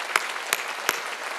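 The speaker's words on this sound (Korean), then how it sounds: "박수 치려면 세게 치라고요." Church congregation clapping at a Sunday worship service, a few sharp, evenly spaced claps over faint background murmur.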